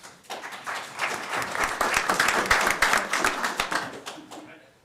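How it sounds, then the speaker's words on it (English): A town board meeting audience breaks into a round of applause, dense clapping rising to a peak in the middle and then tapering off toward the end. "I really want you guys to give them another round of applause"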